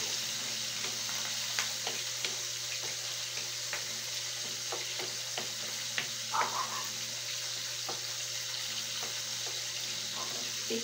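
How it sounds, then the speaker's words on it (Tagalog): Vegetables boiling in a pot on a home stove, a soft continuous bubbling hiss dotted with small pops and clicks, close and fairly quiet, with no one talking. "Yung gulay natin kumukulo na."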